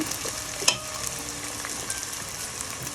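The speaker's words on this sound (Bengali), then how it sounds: "আর দিয়ে দিব কাঁচামরিচ এগুলো আমি লাল লাল করে ভেজে নিব" Green chilies fry in oil with a constant close sizzle, broken by a sharp clink and light stirring sounds, no voices.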